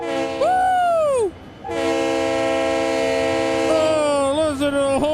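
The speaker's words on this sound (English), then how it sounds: "Oh, listen to the horn." A Clinchfield Railroad SD40 diesel locomotive horn in Train Sim World 5 sounds two loud sustained chord blasts, the first bending down in pitch before a brief pause, the second long and steady with a wavering finish.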